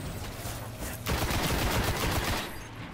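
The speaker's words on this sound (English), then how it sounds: "Got a long range shotgun action." Gunfire in Destiny from a long-range shotgun, a dense loud burst of blasts that swells about a second in and rolls on steadily before easing off near the end.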